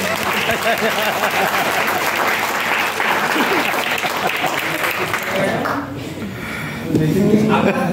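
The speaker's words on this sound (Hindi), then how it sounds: "जोरदार तालियां बजाओ" An audience at a children's event in a science city applauds with dense, sustained clapping for several seconds, dips briefly, then resumes more loudly, with crowd voices mixed in.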